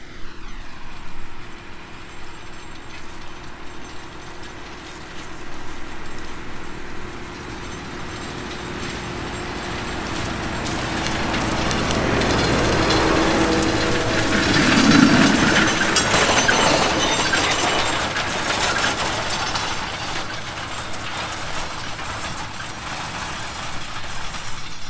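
A tractor pulls a cover crop disc harrow through sunflower stalks in a field, giving a continuous droning engine rumble with grinding that swells toward the middle and then holds steady.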